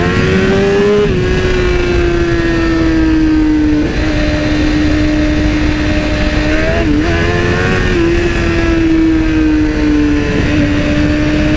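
A BMW S1000RR motorcycle engine roars loud and close on a night ride, holding a high, strained drone that dips briefly at several gear changes and climbs again.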